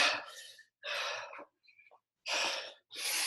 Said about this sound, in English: I'm just breathing right now, just trying to catch my breath.